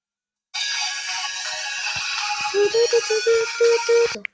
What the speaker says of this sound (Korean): 전화가 왔네요